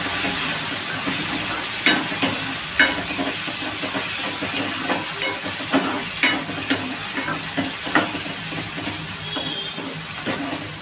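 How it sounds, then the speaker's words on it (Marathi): Tomato and onion fry in a pan for a potato curry, a continuous close sizzle and steamy hiss with regular stirring knocks and scrapes throughout, and nobody speaking. "टोमॅटो छान गळेपर्यंत आपल्याला फ्राय करून घ्यायचे आहेत, मऊ होईपर्यंत"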